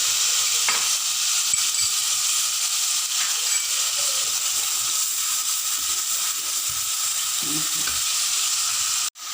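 Ginger, garlic and onion fry in a pan, a steady close crackling sizzle with light stirring and scraping, continuous until a sharp clack near the end, no voices.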